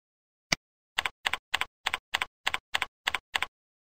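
Keystrokes on a computer keyboard entering a password: one isolated tap, then nine evenly spaced double-clicking key presses in a steady rhythm, close and clear with no talking.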